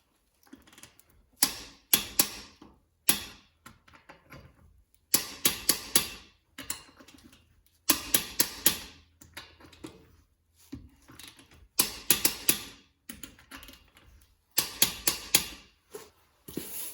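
Repeated short clusters of sharp metallic clicks as a torque wrench tightens car wheel lug nuts during a tire rotation, each burst of several clicks separated by brief pauses, close and fairly quiet.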